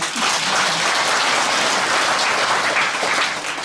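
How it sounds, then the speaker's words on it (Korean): Dense, steady applause from an audience at a Buddhist temple's first-of-the-month Dharma service at Gilsangsa, filling the whole stretch at a fairly loud, even level with no speech. "토끼띠 위해서 박수 한번 쳐주세요"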